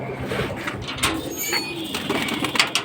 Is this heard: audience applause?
no